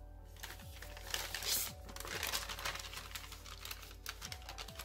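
Paper being mountain folded for an origami Santa crane, heard as soft, close crinkling and crackling with a few sharper creases over about five seconds, quiet and alone.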